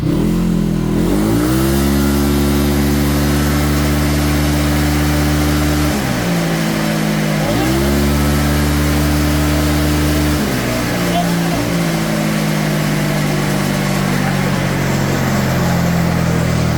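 A motorcycle on a dyno bed is held at full throttle, its engine roaring loud and sustained, with pitch dips and recoveries between repeated revs, and voices faintly underneath.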